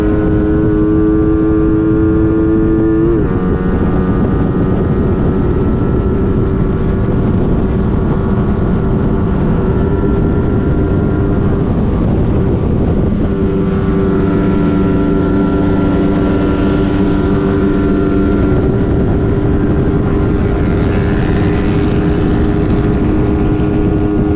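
Motorcycle engines of a Rusi Flash and a Suzuki Raider Fi drone loudly and steadily, the pitch climbing as they gain speed, with a gear change partway through.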